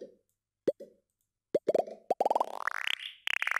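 Cartoonish pop sound effects from an After Effects extension: a few isolated plops, then a rapid run of pops rising in pitch, clean and close with silence between the early ones.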